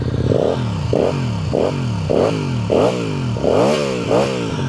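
A QJMotor SRV 250 motorcycle engine with stock exhaust is revved repeatedly up close, about seven sharp throttle blips, each rising and falling back to a throaty idle.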